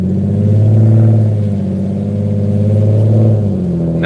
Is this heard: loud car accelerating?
yes